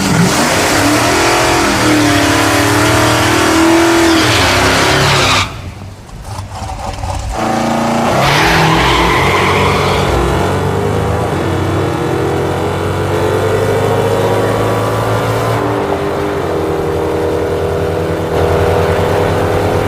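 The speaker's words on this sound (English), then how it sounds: "This thing is leaving hard on the nitrous, but unfortunately, it's also spinning the tires and slowing me down." A 1969 Pontiac Firebird launches hard on nitrous, engine roaring loud and close; after a brief drop in sound the revs climb again in a long rising howl as the tires spin.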